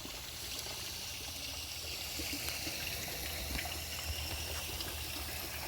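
Water rushes steadily under a garden drain channel, carrying runoff from behind the beds out beneath a crossing, a soft continuous gush and trickle heard alone throughout at low volume.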